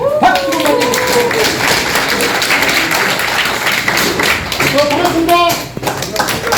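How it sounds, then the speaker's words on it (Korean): A small group applauds a club chairman being introduced at an outdoor walking meetup, dense steady clapping running for several seconds with voices chattering underneath. "박수 보내주십시오."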